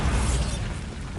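A Bombarda spell explosion from the game Hogwarts Legacy: a dense, loud blast with heavy low rumble that stays full and sustained before easing slightly, with no voices.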